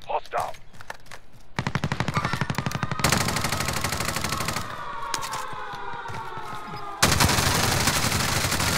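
Automatic weapons in a shooter video game rattle off in fast, loud bursts, with short breaks between strings of rapid shots and a hard restart near the end.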